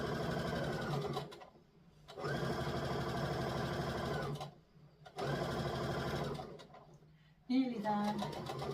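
A sewing machine stitches a fabric bowl cover in three steady runs of fast whirring, separated by short pauses. A voice talks over the stitching.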